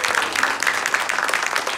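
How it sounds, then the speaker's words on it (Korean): A small audience at an author talk and book event breaks into brisk, close applause, dense and continuous for under two seconds. "박수!"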